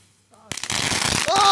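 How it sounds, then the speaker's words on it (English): A jumbo crackling ball firework bursts suddenly after a quiet moment, setting off a dense, loud rapid crackle that continues to the end, with a voice calling out over it. "Now we have the last crackling ball, and we have a little spark."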